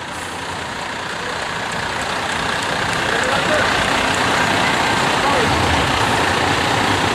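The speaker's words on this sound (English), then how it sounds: "Town of Gates Highway Department is showing off their 2 new plow trucks today." Two new Town of Gates Highway Department plow trucks rumble past at a bicentennial parade, a steady heavy diesel drone that builds slightly louder, with crowd noise and voices mixed in.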